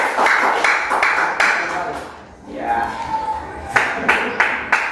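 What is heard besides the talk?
audience applause for group C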